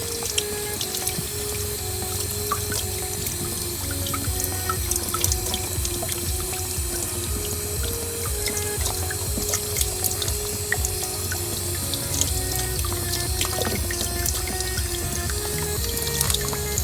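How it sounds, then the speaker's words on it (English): Running water rinsing baking soda off garden tools, a steady close splashing stream with small drips and spatters, continuous and without talk. "Just wash all the baking soda off."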